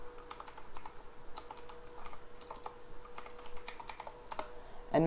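Typing on a computer keyboard to name a new desktop folder, a brisk run of close, clear keystrokes in uneven bursts with no talking.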